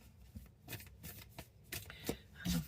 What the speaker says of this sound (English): I'm just shuffling off camera here.